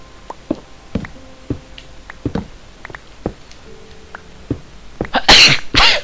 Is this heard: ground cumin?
no